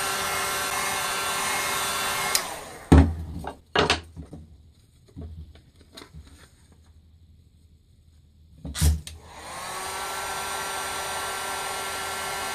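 A heat gun blasts hot air onto a Kydex holster in a steady, loud whoosh, cutting off for several seconds of quiet with a few light clicks and knocks, then roaring back on at the same level.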